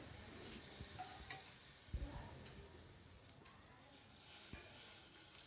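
Mutton soup poured into a pan of sautéed masala for mutton rasam, giving a steady low sizzle and bubbling with a brief splash near the start, no talking.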